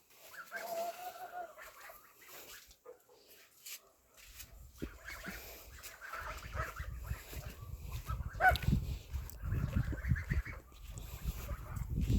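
Geese honk and gabble in a noisy farmyard, with chickens, ducks and other fowl mixed in and a low rumbling background growing louder toward the end.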